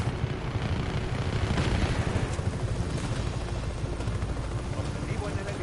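A helicopter in the open-world action game Just Cause 3 rumbles loud and close throughout, with a dense low drone and bursts of gunfire mixed in, while a voice talks over it.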